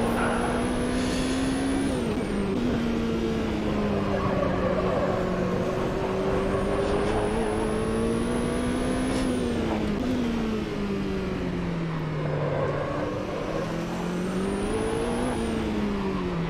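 A race car engine in the Automobilista 2 video game drones loudly and steadily, its pitch rising and falling through gear changes and corners, with another old Porsche's engine heard alongside.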